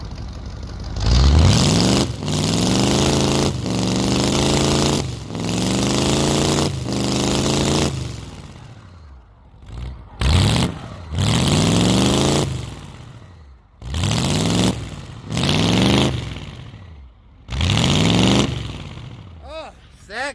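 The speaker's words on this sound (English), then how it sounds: "Sounds like a tired old 350 Chev." A 1984 Chevy 6.2 diesel with hood stacks revs loudly in repeated rising bursts, each throttle blip climbing then dropping, with short gaps of idle between later pulls, close and harsh.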